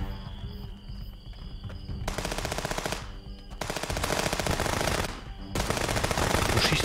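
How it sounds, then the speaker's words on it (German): Rapid automatic gunfire from the video game Contraband Police, dense machine-gun bursts in several loud sustained volleys separated by brief lulls, with a few single shots mixed in. "Wo schießen die hin?"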